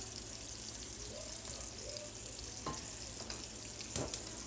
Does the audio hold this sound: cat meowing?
no